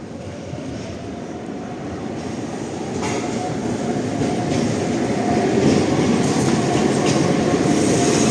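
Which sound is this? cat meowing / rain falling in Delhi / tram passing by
tram passing by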